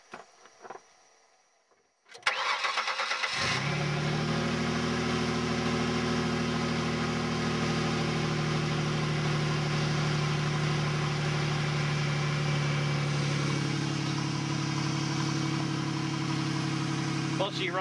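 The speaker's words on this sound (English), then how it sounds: "While she runs, the exhaust is snapped at the flex pipe" A car engine with an exhaust snapped at the flex pipe, silent at first, then cranking and catching into a loud, steady, raspy idle that drones on close by for the rest of the clip.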